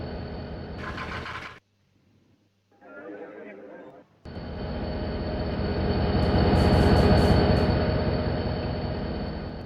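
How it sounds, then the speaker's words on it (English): A freight train is driven in the Trainz railway simulator game, with a steady diesel engine drone and rumble that cuts out briefly. It then returns louder, swelling and fading, with a faint high ringing partway through. "Here's the freight train I'm going to drive again."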